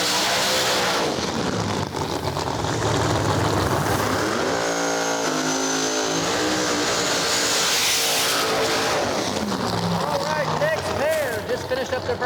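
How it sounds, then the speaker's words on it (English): Drag race cars finishing burnouts at a no-prep drag strip event at Rockingham Dragway, North Carolina: loud, sustained engine roar with rising revs and tire noise, under continuous announcer commentary. "Finished up their burnouts over in the left lane."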